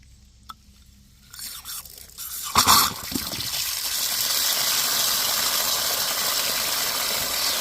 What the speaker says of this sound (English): There, the pump kicks on.